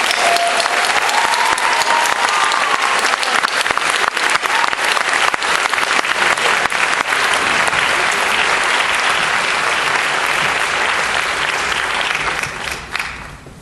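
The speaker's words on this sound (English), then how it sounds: "let's hear a round of applause for Dr. Micheal Eric Dyson" An audience gives Dr. Michael Eric Dyson a loud, sustained round of applause as he is introduced, dense clapping filling the room before tapering off at the end.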